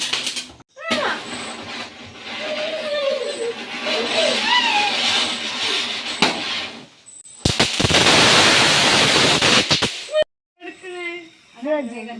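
A quick run of loud, close firecracker pops and crackling bursts on the eve of Eid al-Adha, preceded by voices and some cat-like cries.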